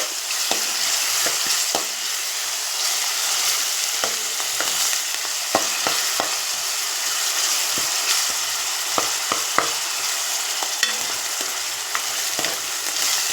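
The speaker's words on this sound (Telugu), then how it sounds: "ఉల్లిపాయ పేస్ట్ వేసుకుందాం ఇది కూడా పచ్చివాసన చేయంత వరకు బాగా ఫ్రై చేసుకోవాలి" Onion paste frying in oil for a fish curry, a loud continuous sizzle with frequent sharp scraping clicks from stirring, close and without speech.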